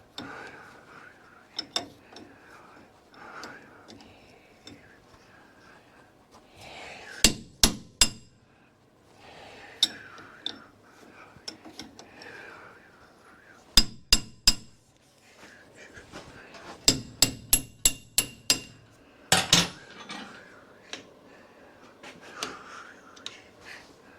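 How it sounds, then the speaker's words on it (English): A wrench works on a stuck part bound by washers, producing sharp metallic clanks and clinks in scattered clusters, some rapid, with strained quiet sounds and a few low spoken words between them. "so let's just use the wrench."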